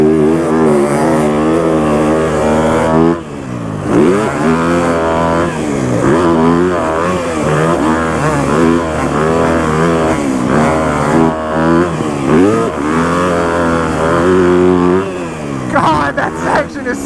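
A new KTM dirt bike revs hard on a sand track, its engine climbing and dropping in pitch through repeated loud throttle bursts and gear changes, close and continuous.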